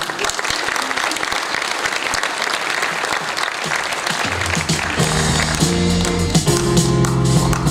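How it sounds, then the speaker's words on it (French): Audience applause for an award nominee at the Tecoma Award 2018 ceremony in Mauritius, a steady dense clapping throughout that swells louder near the end as background music enters. "Sous vos applaudissements"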